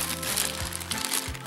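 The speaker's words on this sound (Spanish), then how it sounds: "disculpen el ruido del papel y de la bolsa." Paper and a shopping bag holding newly bought shoes rustle and crinkle up close as they are handled, a continuous crisp crackling that lasts well over a second.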